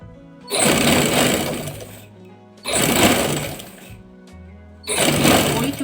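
A sewing machine stitches the curved hem of a kameez in three loud, close bursts of rapid needle clatter, separated by short pauses.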